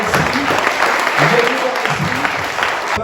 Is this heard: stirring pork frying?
no